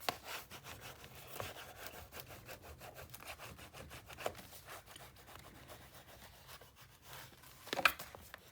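A paper gusset on an 8x8 steampunk mini album, burnished by hand: a quiet, steady rubbing and scraping in close, repeated strokes, with a slightly louder scuff near the end.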